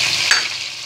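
Chicken with onion and garlic-ginger paste fries loudly in a pan, a close, bright hiss of sizzling with a brief stir-like bump in the middle of the short burst.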